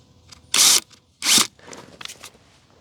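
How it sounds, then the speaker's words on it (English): Two short bursts from a power drill driving a short drywall screw into deck framing, close and loud, followed by softer handling clicks. "With that marked, I am going to drive just a short drywall screw into"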